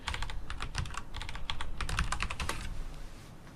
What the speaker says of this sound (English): what if we type in the whole word?